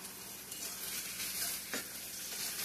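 Potatoes frying in butter in a pan for a home-cooked meal, a steady close sizzle and crackle with faint stirring, no talk.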